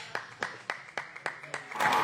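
Seven sharp single hand claps in a loose steady rhythm, close and distinct, given for a coach, ending in a brief burst of several people clapping together.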